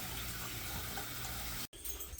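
Water running steadily from a sink filled for agitating and skimming, overflowing into a second sink and draining away, a continuous close splashing wash that cuts off briefly near the end.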